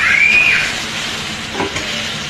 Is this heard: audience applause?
no